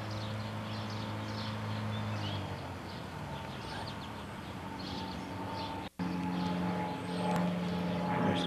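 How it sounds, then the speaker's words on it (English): A steady lawnmower engine drone hums in the distance outdoors, mixed with faint sparrow birdsong, running continuously throughout. "Here's that darn lawnmower."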